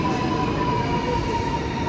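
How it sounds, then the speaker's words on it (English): A Madrid Cercanías commuter train rumbles nearby with a steady, loud roar and a faint sustained tonal whine throughout. "That train's going south, and we want this one."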